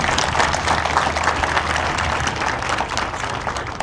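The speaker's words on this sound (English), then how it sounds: "I'm going to have you clap for them" An audience at a ribbon-cutting ceremony in Lawrenceburg, Tennessee, applauds, a steady wash of many hands clapping for a few seconds, fairly loud with no speech.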